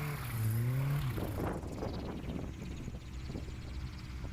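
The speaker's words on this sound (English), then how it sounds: "So here's an example of that Yamaha engine." A STOL airplane with a Yamaha engine passes nearby, its engine tone rising and then falling as it flies by, fading into wind noise.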